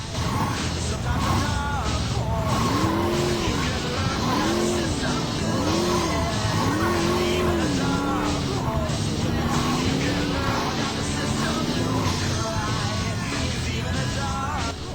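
Saints Row 2 car engines rev and whine up and down with screeching tire skids, loud and continuous, over a busy mix of music and effects.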